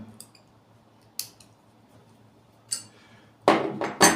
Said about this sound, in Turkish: Küçük anahtarım aşağıda kaldığı için ne yazık ki bu büyükle yapıyorum.